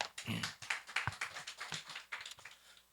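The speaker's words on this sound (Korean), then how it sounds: "하나님께 영광의 박수" A church congregation claps in praise to God, sparse and uneven hand claps in short bursts, fairly faint and close, with some murmuring voices mixed in.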